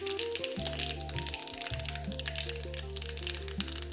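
Mustard seeds, hing, turmeric and chili powder sizzle in hot oil for Shimla Mirch sabji, a steady crackling fry under a loud, constant low drone throughout.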